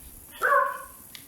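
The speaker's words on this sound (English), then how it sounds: "I don't know if y'all can hear my dog barking." A single short dog bark or yelp, somewhat distant and faint, standing out briefly against quiet background noise.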